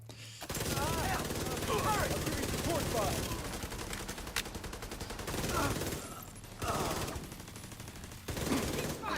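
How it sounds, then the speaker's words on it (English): Rapid bursts of automatic gunfire in a video game, fairly close and crackling in repeated volleys with short gaps, while a person talks over them. "I heard gunshots."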